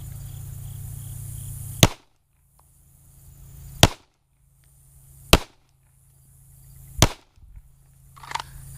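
Five sharp, loud shots from a Glock Gen 5 pistol fired support-hand only, spaced roughly one and a half seconds apart, each cutting through quiet range air with a brief ringing tail.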